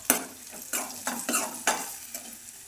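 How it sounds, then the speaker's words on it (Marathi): Spices and curry leaves stirred and sautéed in hot oil in a pan for a village-style tomato curry, with a series of scraping stirs over a steady sizzle, close and fairly quiet. "छान परतून घ्यायचा, सारखं असं हलवत राहायचं"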